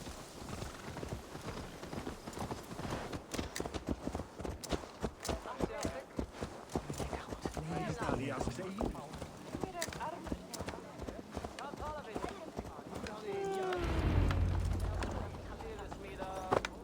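Horse hooves clip-clop steadily in Assassin's Creed Valhalla, with a voice speaking over the footsteps throughout.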